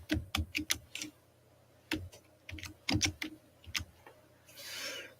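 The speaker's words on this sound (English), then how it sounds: "I'm trying to get my typing done here with one-handed" Quick bursts of keystrokes on a computer keyboard, typed one-handed in clustered runs with short pauses, close and fairly quiet, ending in a softer rustling swell.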